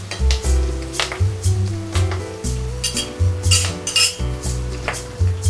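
Curry leaves frying in a hot pan as green chilies cook, with a soft sizzle under repeated metallic clinks and scrapes of a utensil against the pan.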